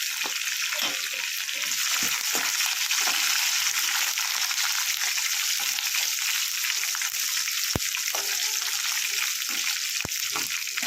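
Tempering of mustard seeds, fenugreek, cumin, dried red chillies and curry leaves sizzles hard in hot oil, a loud continuous crackling hiss with occasional sharp pops and clicks, close up, with no talking.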